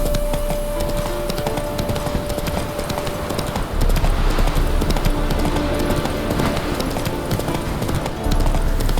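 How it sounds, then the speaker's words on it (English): Hooves of Roach, a horse in the video game The Witcher 3: Heart of Stone, gallop in a steady, loud clip-clop rhythm over constant game background noise, with no one talking. "Run, Roach."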